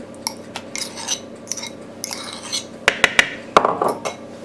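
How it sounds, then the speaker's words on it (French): A spatula mixing a vegan mixture of mashed ingredients and nut butter in a bowl; soft scraping strokes followed by several sharp clicks and taps against the bowl, close and fairly loud. "Je vais mélanger comme à la spatule"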